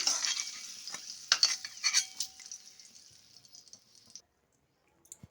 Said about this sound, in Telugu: నిదానంగా వేయించుకోవాలి ఇప్పుడు పచ్చిమిరపకాయలు వేగిపోయాయండి